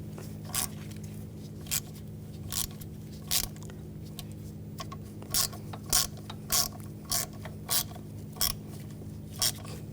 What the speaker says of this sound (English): All right, tighten these all down.